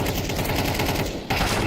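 Dense, loud bursts of gunfire from a professional Counter-Strike match at a major tournament, a rapid continuous volley with a brief dip before another shot.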